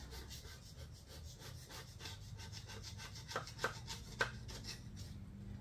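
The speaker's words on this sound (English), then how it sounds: "let's just start off with a gasket scraper and get the big stuff off" Faint rhythmic scraping strokes, a gasket scraper rasping back and forth over a golf cart engine's metal surface, with a few sharper scrapes near the end.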